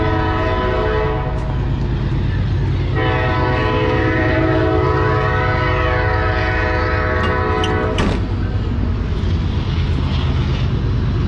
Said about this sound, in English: Sorry about the noise from the train.